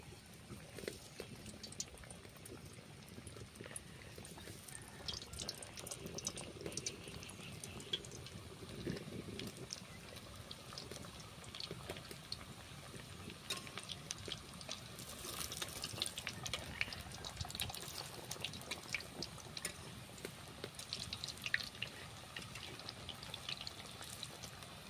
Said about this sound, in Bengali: কড়াইয়ের মধ্যে আমি তেল দিয়ে দিচ্ছিলাম, তেলটা গরম হয়ে গেছে। একটা একটা করে ছেড়ে দিচ্ছি।